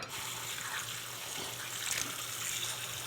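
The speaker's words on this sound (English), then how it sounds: "So you wanna use hot water to make the ring." Hot water pours steadily into a ring mold, a continuous hissing splash and trickle of liquid with a constant low hum beneath, moderately quiet and without any talk.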